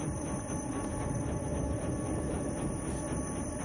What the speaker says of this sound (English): that's a whole train hauling bodies around